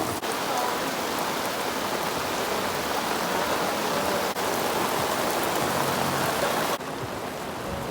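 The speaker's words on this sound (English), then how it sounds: "It's raining really badly." Heavy rain pours down during a thunderstorm, a dense, steady hiss of drops striking surfaces that stays loud and continuous throughout, with a couple of brief crackling knocks.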